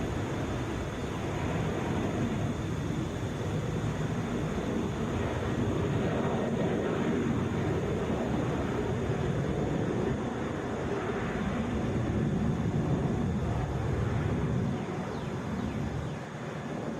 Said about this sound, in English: That is Delta 2163 going to Columbus, Boeing 737.